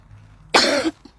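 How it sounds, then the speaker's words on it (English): One sharp, close cough from a woman lasts about a third of a second, set against a quiet indoor background with a faint murmur. "this cough will worry me"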